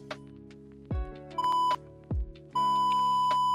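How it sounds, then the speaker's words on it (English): Two electronic beeps from a borehole measuring probe, each a clear steady tone, the second longer, with a couple of low thumps before each. "You notice by the beeps"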